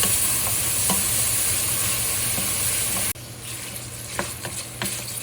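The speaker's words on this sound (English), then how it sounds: "it is melting the grease, the fat off" Bacon frying in a big pot on the stove, a loud steady sizzle that drops off abruptly partway through and then continues more quietly with light clinks and scrapes.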